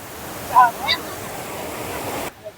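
A waterfall in Meghalaya pours with a steady, broad rush of water. Brief voice-like sounds break in early on, and the roar cuts off abruptly near the end.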